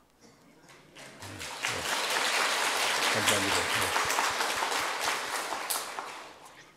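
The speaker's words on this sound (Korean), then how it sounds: "하나님께 영광의 박수를 한번 드려도 좋다고 생각합니다" Church congregation applauding during a Sunday worship service, a broad wash of clapping that swells and holds for several seconds, with a voice speaking briefly near the start and end.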